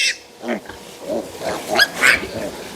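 A sow grunts and snorts during vaccination on a farm, a series of short rough calls close by, rising and falling in loudness with brief gaps.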